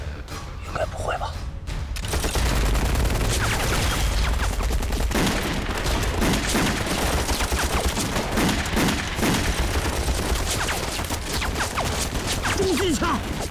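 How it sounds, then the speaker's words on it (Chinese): Heavy machine gun fire in a war drama about the anti-Japanese resistance, a dense, continuous rattling barrage with thuds, booms and shouting voices mixed in throughout. "重机枪，二王，你不是他们只有三把大盖吗？"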